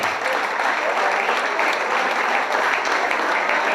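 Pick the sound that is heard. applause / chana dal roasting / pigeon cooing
applause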